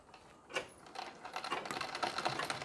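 A sewing machine stitches a Nauvari saree in a short, quiet burst of rapid mechanical clatter that starts softly and builds into a steady run, with no talk.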